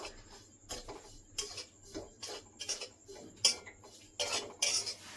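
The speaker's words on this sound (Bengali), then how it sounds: "দুধ পাউডার দিয়ে কিছুক্ষণ ভেজে নেব" A spatula scrapes and clinks in a pan while milk powder fries with a beetroot mixture for a Bengali beetroot ladoo, giving irregular soft metallic taps and scrapes, fairly faint, with no talking.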